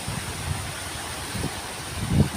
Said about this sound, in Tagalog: malakas yung hangin, malaki yung mga alon